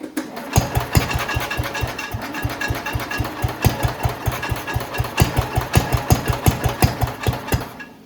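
An old Cub Cadet lawn tractor, unused for more than ten years, has its engine start and run with a rough, rapid, regular chugging pulse, loud and close, with a slight knock and no talking.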